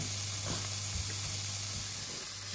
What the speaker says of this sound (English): Let's start cooking down and get those prawns cooked out.